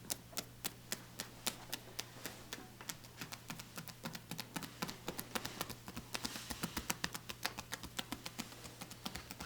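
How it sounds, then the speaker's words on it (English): Hacking massage on a back, with loosely held fingers slapping together in quick, steady rhythmic pats. Close and faint, over a low steady hum, with no talk. "So the fingers are loosely slapping onto each other, and it sounds like this."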